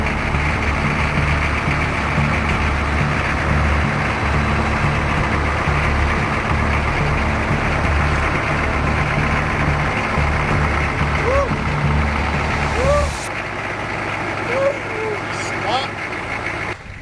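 Off-road truck engine idling and rumbling steadily in four-wheel drive on a Washington backcountry trail, loud and close with a knocking low tone, voices talking over it before the engine note drops near the end.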